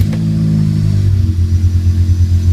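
A 1998 Ferrari 355 with no muffler or silencer, running a custom pipe arrangement with OEM headers and caps, starts with a loud burst and revs, then drops into a deep, throbbing, lumpy idle.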